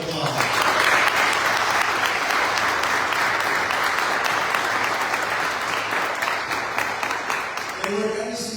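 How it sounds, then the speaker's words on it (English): Audience at a congressional district event claps for office staff, a loud, sustained wash of many hands that holds steady for several seconds and then tapers off near the end. "Give them a big round of applause"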